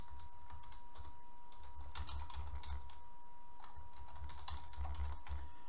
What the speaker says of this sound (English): I'm going to have to type this in.